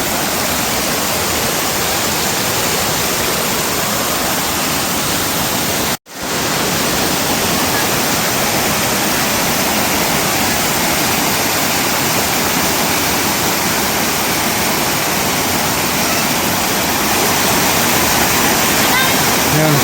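A powerful waterfall at Panchalingeswar temple roars in a loud, continuous broadband rush close by, broken by one brief cut near six seconds, then pounding on steadily.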